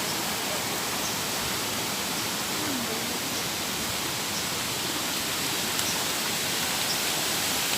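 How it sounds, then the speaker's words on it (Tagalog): Strong river current rushing beneath a bridge in Sayao, Mogpog, Marinduque during Typhoon Rolly, a steady, dense roar of water that stays loud and unbroken throughout, with no voices. "Nandito po tayo sa tulay. Lakas po ng kanya. Agos."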